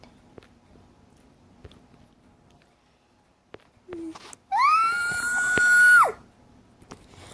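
A woman's scream in an audio drama, a single long high-pitched shriek that holds for about a second and a half and then cuts off, loud against an otherwise quiet background with a few faint clicks before it.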